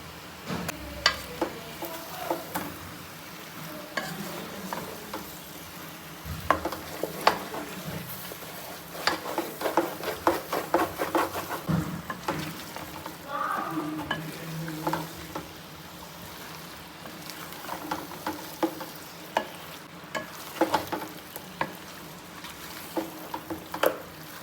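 Chicken frying in a pan with a low steady sizzle, broken by frequent scraping and clinking stirs of a spatula close by over an extended stretch, no talking.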